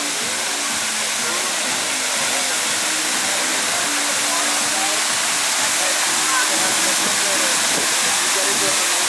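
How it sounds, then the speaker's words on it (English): A large artificial waterfall at the Mirage hotel pool in Las Vegas roars with a steady, broadband rush of falling water, loud and unbroken throughout, with faint outdoor voices underneath. "There's a beautiful waterfall here."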